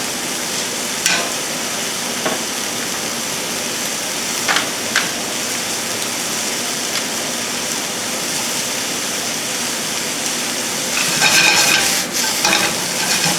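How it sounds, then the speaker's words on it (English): Leeks and asparagus sauté over high heat in a pan, a steady broadband sizzle throughout with occasional stirring scrapes and louder crackling bursts near the end; no talking. "leeks sauteing for like 2 or 3 minutes. Then we're going to add our asparagus. Spread that around."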